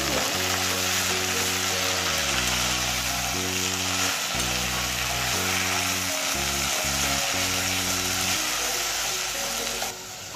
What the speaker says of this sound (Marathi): तेलावर छान परतून घ्यायची, चांगली परतायची।